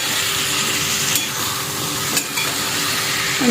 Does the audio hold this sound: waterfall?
no